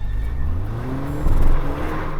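A new Toyota Land Cruiser stuck in snow on ice, its engine droning low and steady with the brake held, then rising into a louder rev near the end, close and without talk.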